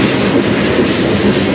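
CN freight train passing on the Strathroy Subdivision, a steady, loud rumble of rolling cars with faint clickety-clack throughout, no voices.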